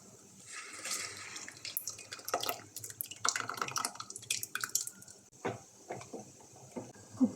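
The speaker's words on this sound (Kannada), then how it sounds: "ಕುಕ್ಕರ್ಗೆ ಸ್ವಲ್ಪ ನೀರು ಹಾಕಿ" Water is poured into a pressure cooker while dal for sambar is being made, a soft, steady trickle and splash with scattered drips, fairly quiet and close, with no talking.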